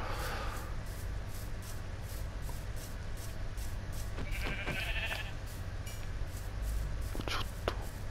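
A sheep in the Minecraft video game bleats in short, clear calls near the middle and end, over steady game background noise while someone talks quietly throughout.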